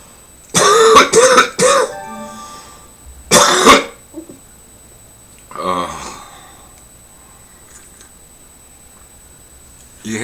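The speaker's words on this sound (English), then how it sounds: "You hear me coughing?" A man with COPD coughs and clears his throat in several harsh, close bursts, with pauses and a softer throat sound later, no talking.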